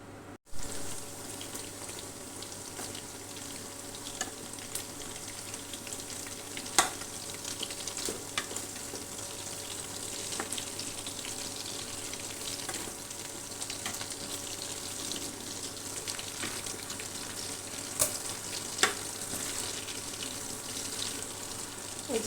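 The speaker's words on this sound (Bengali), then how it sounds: "তো আমি অল্প আঁচে আস্তে আস্তে করে আমি ভেজে নিব।" Beef spleen frying slowly in a pan over low heat gives a constant, fairly quiet sizzle with occasional sharp pops standing out, heard alone with no talking.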